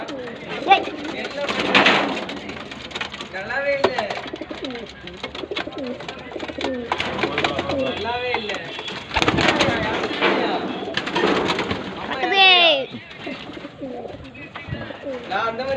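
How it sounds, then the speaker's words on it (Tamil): Pigeons coo and flutter close by, soft throaty calls repeating across a busy mix, with a voice talking intermittently over them. "இது வேற புறா."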